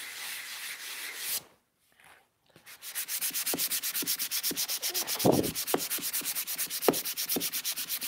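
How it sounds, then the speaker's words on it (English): A power sander with a worn disc works lightly over painted wood of a Star Wars Death Star phone/tablet stand in a workshop, a close, even whirring rub that stops briefly, then resumes with a pulsing rhythm and a few sharper scrapes. "I just want to give it a light sanding."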